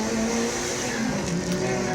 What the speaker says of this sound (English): The Civics are giving the Evo a hard time.